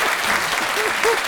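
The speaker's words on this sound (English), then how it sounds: "I want a little applause for this young woman." A brief burst of audience applause at a classical music talk, dense steady clapping lasting about a second.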